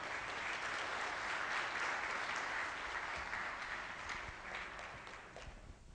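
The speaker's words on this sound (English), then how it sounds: "Can we have the clap going once more?" Steady applause from an audience at a business talk on online hiring, dense clapping filling the whole stretch and tapering slightly toward the end, with no voices over it.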